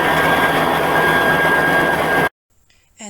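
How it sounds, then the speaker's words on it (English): A Cusimax 5-quart stand mixer runs at mid-range speed with a loud, steady motor whine and hum, close and constant, cutting off abruptly into near silence at the end. "And that's how loud the stand mixer is."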